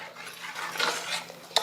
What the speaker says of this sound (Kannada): ನಾನು ಮ್ಯಾಶ್ ಮಾಡ್ತೀನಿ ನೋಡ್ರಿ